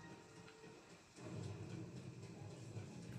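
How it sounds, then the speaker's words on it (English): Thunderstorm in The Legend of Zelda: Tears of the Kingdom, a steady wash of rain hiss that swells suddenly into a deep, sustained rumble of thunder about a second in, continuing loud with no voices. "how can you survive that thunderstorm?"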